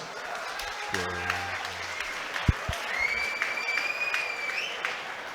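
A boxing crowd in Birmingham applauds and cheers steadily after a bout, with scattered whistles and shouts rising over the clapping and a few sharp thumps.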